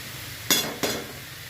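Washed spinach hits a hot pan of fried vegetables. Two quick, close bursts of sizzling clatter sound half a second apart over a quiet background.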